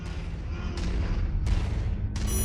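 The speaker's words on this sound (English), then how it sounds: "Long-range missiles are set to Weapon Group 3. The target lock has been disabled for the moment, but never mind that. Just go ahead and fire at will." Long-range missiles launched in quick succession from a mech in MechWarrior 5: Mercenaries, three sharp whooshing bursts at even intervals over a steady, loud rumbling game background.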